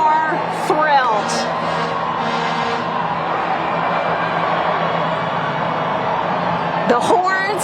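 A massive crowd of Carolina Hurricanes fans cheering and whooping at a Stanley Cup parade, a steady roar with horn blasts rising near the start and end, and someone talking over it.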